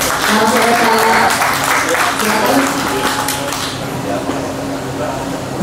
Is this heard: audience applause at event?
yes